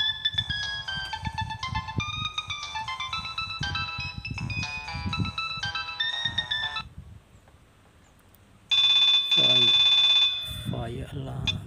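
A Nokia 3220 ringtone plays as a bright, rapid electronic melody of beeping notes over a percussive beat, then cuts off. After a short quiet gap a steady alarm-like tone begins.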